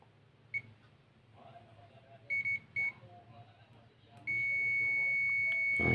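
A digital multimeter in continuity mode gives short electronic beeps, then a steady high-pitched buzzer tone held continuously to the end, over faint background noise.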